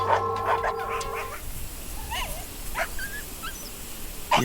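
A dog in a rural forest area makes a few short yelps and whimpering cries at moderate distance, with a brief mechanical hum at the start.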